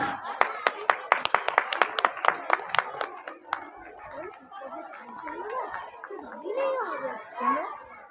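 Audience applause at a school prize ceremony, a burst of sharp hand claps fading after a few seconds into children's chatter and general crowd noise.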